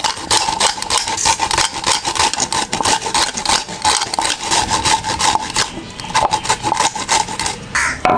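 Raw green mango skin scraped against a rough surface, a loud close rasping rub repeated in fast even strokes throughout.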